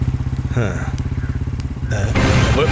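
A motorcycle engine thuds nearby in a fast, steady pulsing rhythm, loud and close for the whole stretch, with a voice heard briefly over it.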